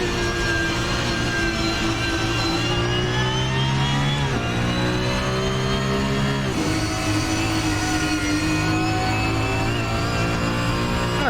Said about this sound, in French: Ouais, je suis vraiment pas fan de ce son du moteur.